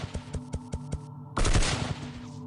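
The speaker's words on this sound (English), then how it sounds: "a hail of gunfire erupted from the roof" Rapid machine-gun bursts from a rooftop rattle out in a steady chain of sharp reports, then a louder, denser volley erupts and rings out.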